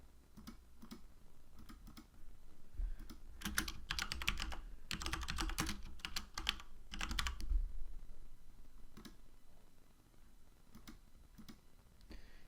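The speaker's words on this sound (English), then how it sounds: "Oh, maybe I gotta type it in better." Quiet typing on a computer keyboard during a baseball management game, with bursts of rapid keystrokes between sparse single clicks, faint and without speech.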